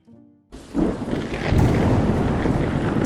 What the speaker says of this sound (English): the thunder began to rumble outside, and the rain soon started to pour heavily over the roof